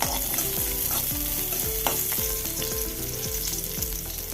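Chopped onion frying in a tablespoon of coconut oil in a kadai on a gas stove, a dense sizzle broken by regular stirring strokes of a spoon about twice a second.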